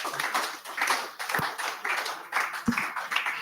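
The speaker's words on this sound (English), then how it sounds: "Clap for them now." A small audience at a conference breakout session on relevance in the global economy claps briefly for the speakers, a scattered, moderately quiet patter of hands with a couple of sharper taps.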